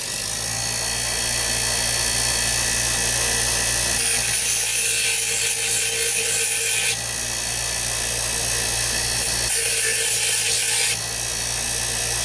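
A power tool grinds a broken piece of drill bit, throwing sparks, with a loud continuous high whine that shifts to a harsher grinding tone when the metal is pressed against it twice.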